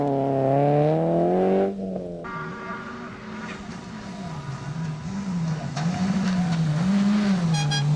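A Mitsubishi Mirage rally car on a stage of the 1992 Rally of Malaysia, its engine loud and close with rising and falling revs as it shifts and accelerates, tyres scrabbling.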